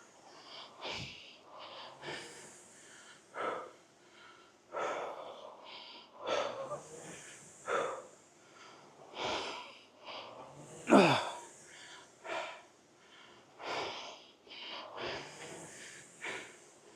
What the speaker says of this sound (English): I'm definitely breathing pretty heavy